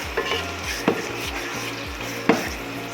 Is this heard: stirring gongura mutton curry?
yes